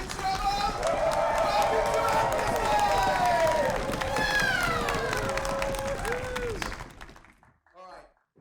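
A festival audience builds applause in layers, bass, mid and treble, into a dense, sustained roar of clapping and cheering that thins out and stops, leaving a few scattered claps.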